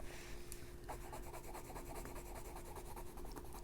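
Colored pencil is blended on paper while coloring winter trees, making soft, close, rhythmic scratchy rubbing strokes that repeat steadily at low volume.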